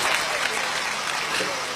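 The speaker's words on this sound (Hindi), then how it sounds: "एक बार मित्रों जोरदार तालियां हाथ उठाकर बजाएं।" Loud, sustained applause from a large crowd, dense and steady clapping throughout with no pauses.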